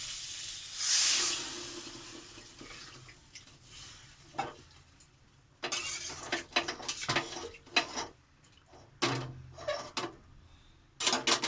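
Water poured into a hot pan of well-fried masala for a light rohu fish curry bursts into a loud, brief hiss, followed by scattered clinks and scrapes of a spoon against the pan.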